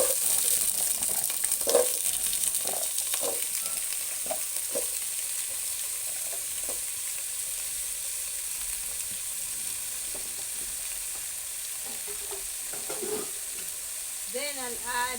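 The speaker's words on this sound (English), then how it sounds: "Then I'll add my potatoes and carrots." Potatoes and carrots fry in a pan for a chicken stew with vegetables, a steady sizzling hiss broken by scraping stirs, and a few faint bits of voice near the end.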